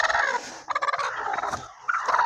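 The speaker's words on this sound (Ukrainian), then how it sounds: "повернулася назад до цих ось курок" Busy poultry clucking and squawking continuously, close by, with overlapping calls and bursts of rapid chatter throughout.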